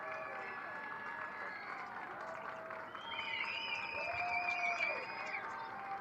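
Boisterous crowd at a minor-league baseball game at Canal Park, a steady distant roar of fans swelling louder midway, heard beneath a broadcaster's voice.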